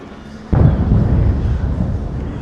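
Ceremonial gun salute fired during the State Opening of Parliament, heard as a sudden deep boom followed by a long rolling rumble and echo across the outdoor setting.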